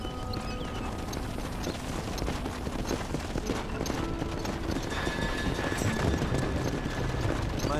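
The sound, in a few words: horses galloping in video game Red Dead Redemption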